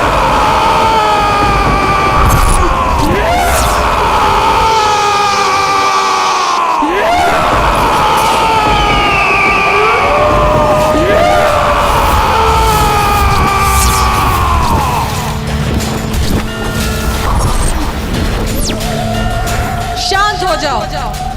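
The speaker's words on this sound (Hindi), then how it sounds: "इस प्रकार तू चीख कर मात्र यहाँ के चमगादड़ों को आतंकित कर सकता है" The demon Durgamasur lets out long, loud, rising and falling screams that repeat and echo in waves, with a brief dip partway through and a final cry near the end.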